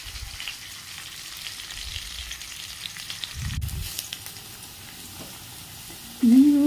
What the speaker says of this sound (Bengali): আলুগুলো খুব সুন্দর করে লাল করে ভেজে তুলতে হবে।